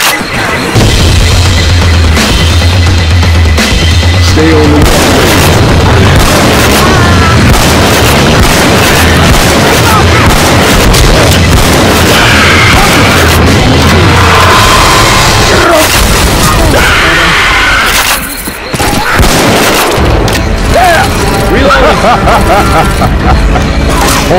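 An explosion in the zombie shooter Left 4 Dead 2 booms amid loud, chaotic gameplay with gunfire and crashing, while players shout over the noise.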